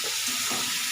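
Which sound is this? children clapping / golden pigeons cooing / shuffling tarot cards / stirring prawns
stirring prawns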